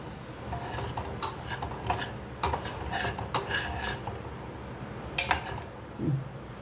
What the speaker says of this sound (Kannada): ಎಳ್ಳು ಆಗಿದೆ ನೋಡಿ ಶಬ್ದ ಬರುತ್ತೆ